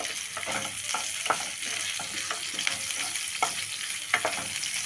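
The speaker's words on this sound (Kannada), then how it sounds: "ಇವಾಗೆ ಸಾಸಿವೆ ಹಾಕ್ಕೊಳ್ಳೋಣ ಒಂದು ಎರಡು ಒಣ ಮೆಣಸಿನ್ಕಾಯಿ ಸ್ವಲ್ಪ ಈರುಳ್ಳಿ ಸ್ವಲ್ಪ ಕರಿಬೇವು ಸೊಪ್ಪು ಹಾಕಿಬಿಟ್ಟು ನಾವು ಸ್ವಲ್ಪ ಇದನ್ನು ಫ್ರೈ ಮಾಡ್ಕೊಳ್ಳೋಣ" Mustard seeds, dry red chillies, onion and curry leaves frying in oil for a greens chutney, a continuous bright sizzle broken by regular stirring scrapes and small pops.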